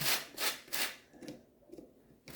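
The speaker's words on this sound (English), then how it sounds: "I'm using the grater because it's quicker and you want quite a fine zest" Orange zest is rubbed over a fine grater in short, quick rasping strokes, about five scrapes with brief pauses between them, close and fairly quiet.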